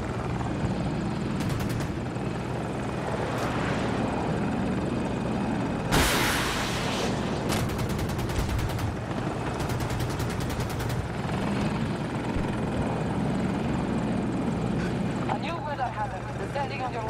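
A helicopter in a military multiplayer shooter game on the Hourglass map thrums steadily throughout, with rotor chop and bursts of game noise over it while players talk.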